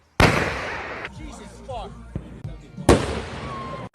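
A thrown firework goes off with two sharp, loud nearby bangs about three seconds apart, with crackling in between and a person swearing.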